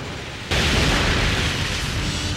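A rocket launcher blast in Gungrave Overdose hits suddenly after half a second of quieter action, then a broad, loud roar of explosion and debris holds steady to the end.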